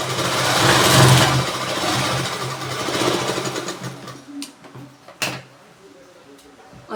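Sewing machine running a double stitch, a steady loud mechanical whir for a few seconds that winds down into clicks and thumps of the machine stopping.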